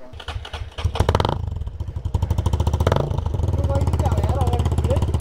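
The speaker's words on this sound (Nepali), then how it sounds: "बुलेटको जस्तै साउन्ड आउँछ" An enduro motorcycle on an off-road ride in Nepal thumps with a deep, loud, steady engine beat much like a Royal Enfield Bullet, revving up close and continuing alone.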